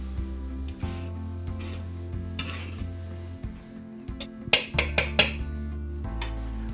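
A spoon stirs a sauce in a pot, giving a run of scraping strokes and a few sharp clinks against the metal over a steady background hum, with no talking.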